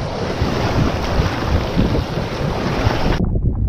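Big ocean waves crash and wash onto an island beach, a loud, continuous surf roar with wind buffeting the microphone, cutting off abruptly near the end.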